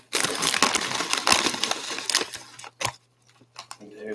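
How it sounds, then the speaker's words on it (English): A meat-flavored potato chip crunched up close, with dense, crackly bursts of crunching that break into short pauses and a few sharper snaps near the end, while someone talks. "Give me a chip. Let them experience the crunch."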